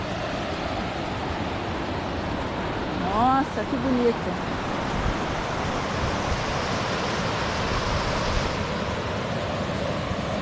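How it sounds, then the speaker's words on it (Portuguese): A small waterfall on a trail near Sengés, Paraná pours into a large, deep pool, making a steady, close, broadband rush of water; a person speaks briefly over it. "Aqui é uma cachoeira também pequena."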